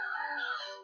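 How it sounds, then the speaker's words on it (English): A short, nasal, squawking cry from pink birds in the Kiwi Wonder video game, a single tonal call under a second long, clear and close with nothing else around it. "Or else I run into these ugly pink birds and their ugly sounds"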